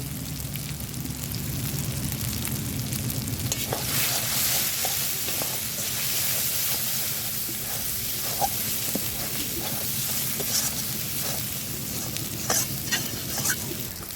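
Mutton frying in a pan after cumin powder and red chilli powder go in, with a continuous sizzle, crackle and steady stirring that stays at moderate level for the whole stretch without talk.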